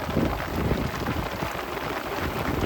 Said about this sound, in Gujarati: વરસાદ આવી ગયો તો આવી ગયા પવન છે ભેગો